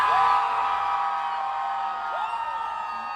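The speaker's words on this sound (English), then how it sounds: "the crowd was more than ready to cheer on all the local winners" A crowd at a Michelin awards watch party in Middle Tennessee cheers and whoops, loud at first and then tapering into a sustained excited murmur, with another rising whoop near the end.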